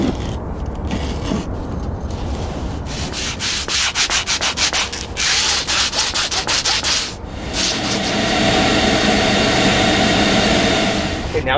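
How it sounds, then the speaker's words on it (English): Hand sanding along the edge of a cured honeycomb structural panel, heard as close, loud rhythmic rasping strokes that run together into a steadier grinding rub toward the end, with no talk. "Now that I've hand sanded the perimeter,"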